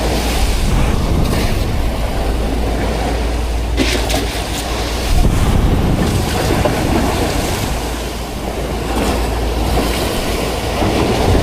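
Loud, continuous roar of Pacific Ocean waves crashing close by at sea, a dense wash of noise that swells and never lets up.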